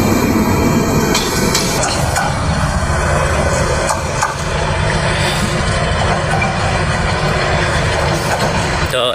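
A long train rumbles past at Tejgaon railway station in Dhaka, loud and close, with a steady roar of wheels and carriages and some high metallic tones, no talking.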